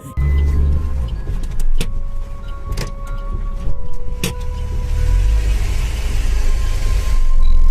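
A car backing up on a deserted road at night, its engine giving a steady low rumble with a few faint clicks and knocks over the continuous drone.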